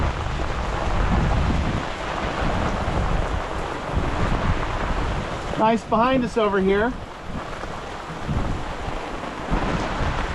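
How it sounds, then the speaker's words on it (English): A rain squall sweeps over a sailboat at sea: steady rain patters and wind buffets the microphone, with low rumbles of thunder, while a person speaks briefly partway through. "But we are getting rained on."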